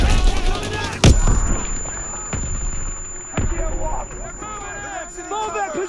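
Gunfire in the Call of Duty video game: sharp loud shots at about one and three and a half seconds stand out over continuous battle noise, with shouting voices and babble throughout.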